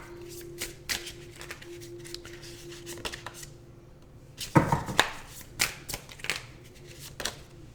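Tarot cards riffled and shuffled by hand at close range, quick papery bursts and snaps in short uneven clusters, with a faint hum underneath and no talk.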